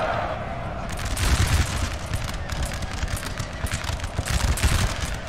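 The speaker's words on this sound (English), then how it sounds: "Can they get a fire, a volley off?" Musket volleys in the Napoleonic Total War video game crackle as a dense, sustained fusillade of overlapping shots with rumbling booms beneath, loud and continuous across the moment.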